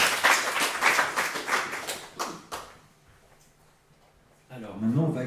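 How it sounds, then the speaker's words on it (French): An audience at a local presentation gives a round of rhythmic applause for Coralie, loud and close for a couple of seconds before tapering off into a quiet pause, then a voice starts talking at the end. "Eh bien, écoutez, on peut l'applaudir."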